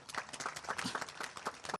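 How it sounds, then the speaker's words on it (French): A ceremony audience applauds a director general at a gathering for former workers, with dense clapping that holds steady for nearly two seconds before stopping abruptly. "Je vous demande d'applaudir, monsieur le directeur général."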